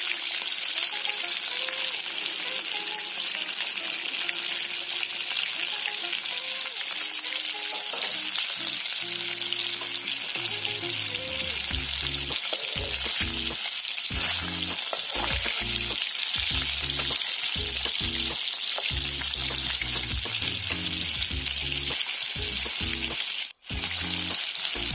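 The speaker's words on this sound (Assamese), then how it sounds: "মই ভাবিছোঁ মাছকেইটা ফ্ৰাই কৰি লওঁ, আৰু সেইবাবে কেৰাহীখন পাতি দিলোঁ" Fish fries in a wok over a village cooking fire with a steady, loud sizzle and hiss throughout, with occasional stirring noises breaking in near the end.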